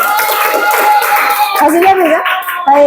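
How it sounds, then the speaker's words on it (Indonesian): A class applauds group 3 in a classroom, with brief clapping that quickly gives way to children's voices and talking. "silakan beri tepuk tangan untuk kelompok 3."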